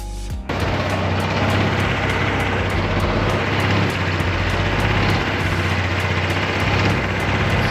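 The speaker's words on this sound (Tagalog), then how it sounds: "i-sound check natin yung kanyang tunog ng tambutso" A 2023 Honda PCX 160 scooter starts with a sharp catch, then its exhaust settles into a steady, close, even idle with a rapid ticking pulse and no voices over it.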